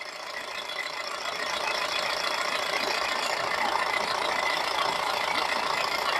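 A used Mahindra Scorpio or Maruti Wagon R engine idles steadily at close range, a continuous even rumble with a faint rapid ticking, no one speaking; around 115,000 km on it, no smoke.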